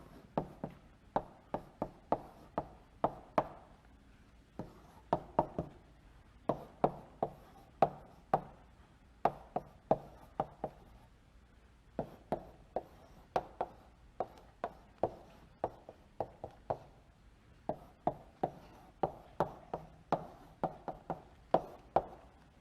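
Marker or chalk strokes sketching a large directed acyclic graph on a lecture-hall board: a long run of sharp, close taps and short scrapes in uneven bursts, fairly faint, with no talking.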